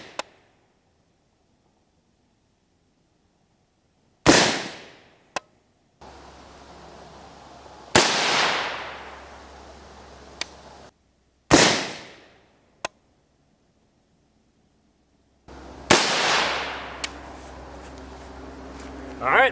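Shots from an FN M4 rifle with a 14.5-inch barrel at an outdoor range: four loud, sharp reports spaced several seconds apart, each trailing off in a short echo, with faint clicks between.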